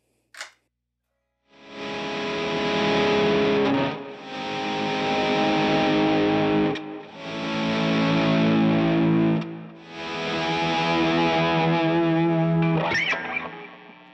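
Electric guitar run through a Lehle volume pedal on a pedalboard, heavily distorted, in four long sustained swells that rise and fade as the pedal sweeps, with a short pluck before and a brief scrape at the end.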